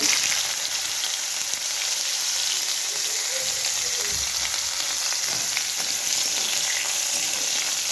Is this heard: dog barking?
no